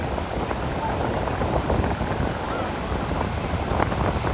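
Steady surf washes onto a sandy beach on a spring day, with wind rushing across the microphone in a constant, full roar and no clear breaks.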